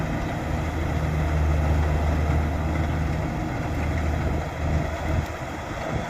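A combine harvester cutting lodged, flattened rice in a paddy field drones steadily, a loud continuous low engine rumble with mechanical hum and no voices over it.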